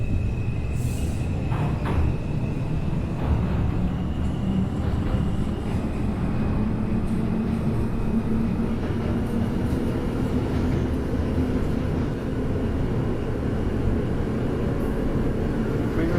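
Simulated NYC Subway R142 train on the 5 line heading toward Dyre Avenue in OpenBVE, a continuous low rumbling run with steady motor drone and occasional brief tonal whines and clicks, loud and unbroken.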